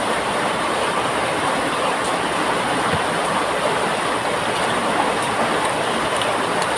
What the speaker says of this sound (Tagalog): Maulan. May bagyo kasi, may bagyo yata kasi.